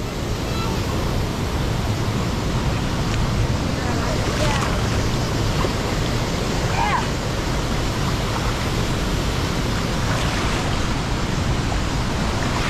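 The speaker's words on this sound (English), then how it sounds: "The waterfall is really flowing." Waterfall pouring steadily over slimy rocks, a loud, dense and unbroken rush of water that fills the whole clip, with a few faint voices and splashes barely audible underneath.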